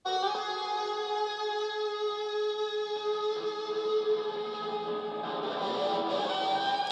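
After EQ with the low end below 200 Hz removed, the guitar in the mix sounds clearer and cuts through, sustained bright tones holding steadily, solo with no speech.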